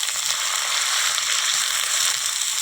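Chopped bottle gourd frying in a pan for a Bengali lau ghonto, giving a dense, steady, close-up sizzle that holds at an even loudness throughout with no talk.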